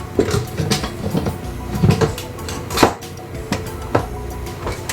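Cooker lid being closed while making mutton biryani in a kitchen, a series of close clunks and knocks with a sharper thud near the middle.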